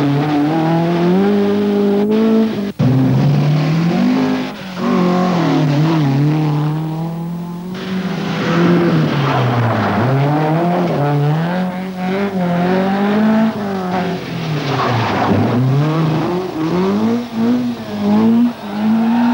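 A Ford Escort rally car driven by Richard Healy charges through a stage of the 1981 Donegal International Rally, its engine loud and close, revving up and down through gear changes with a sharp tire squeal along the way.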